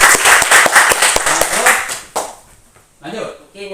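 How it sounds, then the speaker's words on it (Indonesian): A classroom of students claps during a lesson on pulleys: a burst of sharp, fairly rhythmic hand claps for about two seconds, then it fades as a voice speaks nearby. "Ya. tepuk tangan dulu."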